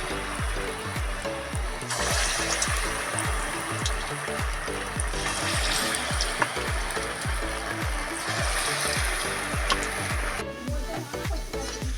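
Khoi dahi vada batter fries in hot oil in a kadai, a continuous bubbling hiss broken by a steady run of regular knocks and scrapes throughout.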